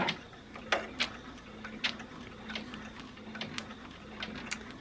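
A Baby Lock Enterprise embroidery machine stitches with a faint, steady motor hum and irregular light ticking clicks, heard from some distance in a quiet room.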